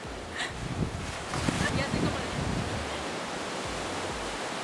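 Beach surf and wind make a steady broadband rush, with swells of wave noise and gusty buffeting on the microphone. A brief voice is heard early on.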